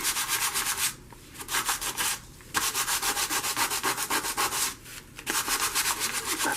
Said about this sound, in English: So I'm going to scuff this up.